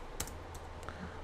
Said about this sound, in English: Okay, I'm going to type my name.